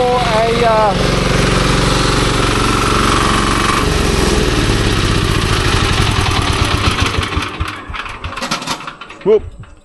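A small Chinese diesel engine on a remote control mower runs loud and close, a hard knocking clatter that slows and sputters to a stop, with a voice speaking over it.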